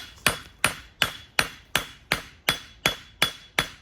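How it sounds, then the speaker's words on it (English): A blacksmith's hammer strikes metal on an anvil, drawing out the base of a piece: ten sharp, ringing blows at a steady, even rhythm, close and loud, with no talking. "then hit with the edge of your hammer at the base"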